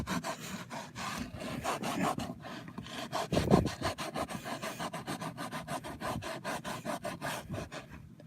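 Rhythmic back-and-forth scrubbing of a stain in a car interior with a dollar store cleaner, rapid rasping strokes repeating steadily up close, with a brief harder rub midway.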